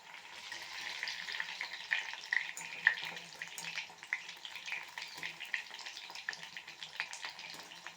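Vada frying in hot oil in a pan, a steady close sizzle with bubbling crackle lasting throughout, with occasional sharper pops and no talking.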